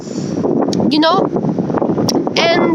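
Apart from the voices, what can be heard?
wind blowing into the microphone outdoors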